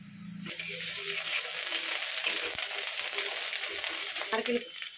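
Onions turning reddish in a karai sizzle hard with freshly added ginger paste, a steady loud fry broken by a few scrapes of stirring, with no talk over it.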